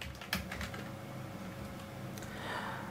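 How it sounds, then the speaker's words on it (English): Typing on a computer keyboard while entering tags for a Facebook page upload, a steady run of close, fast key clicks with a few louder strikes, no voices. "So I'm just going to type some tags like German language."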